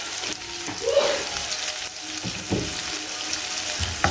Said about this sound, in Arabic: ونبتدي نشوح البصل بتاعنا كده زي ما احنا شايفين